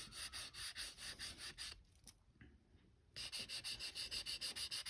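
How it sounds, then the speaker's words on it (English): Gentle hand sanding of a panel: steady rhythmic back-and-forth rasping strokes, close and continuous, with a brief pause in the middle before the strokes resume. "We're going to give this gentle sanding and see what we get."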